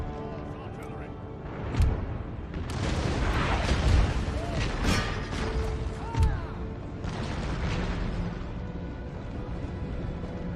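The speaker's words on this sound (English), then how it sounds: "my cannons can fire at their cavalry" Cannons firing in the battle game Empire: Total War, a few deep booms standing out over a continuous rumbling battlefield roar, with someone talking over it.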